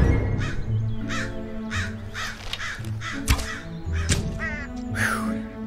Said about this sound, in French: la compagnie se réveilla au doux son des corneilles